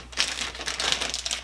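Plastic package of cranberries crinkling as it is handled and pulled at, a short burst of close, crisp crackling rustles.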